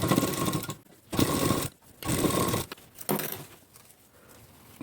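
A sewing machine stitches a blouse in four loud, rapid whirring bursts, with short pauses between them while the fabric is repositioned.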